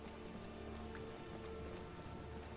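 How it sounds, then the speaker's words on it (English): Steady, soft rain patters on surfaces in the video game Skyrim, a faint, even hiss with no voices. "With this rain, it'd be kind of hard"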